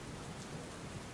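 Steady rain falling in Mehsana in the early morning, a dense, even hiss of drops on surfaces with low rumbling underneath, continuous and without voices.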